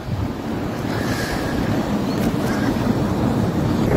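Fast-flowing floodwater river running through a flooded town, a steady, rushing broadband roar of churning water with wind buffeting the microphone, continuous and close throughout.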